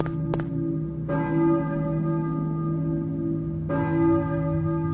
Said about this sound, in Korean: 종소리! 종소리가 들리네? 교회 종인가?